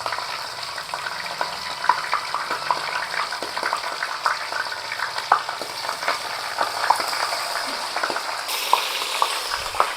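A large katla fish head fries in hot oil in a big wok, giving a loud, continuous sizzle dotted with sharp crackles and pops for about ten seconds, with no talking.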